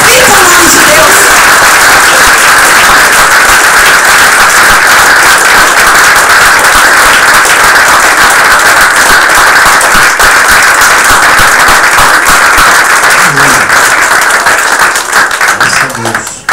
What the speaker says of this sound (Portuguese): Então aplauda o Senhor e glorifica o nome de Deus